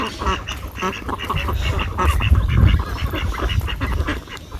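Several domestic ducks quack together as they waddle ahead of someone walking, steady overlapping calls at close range, fairly loud and continuous.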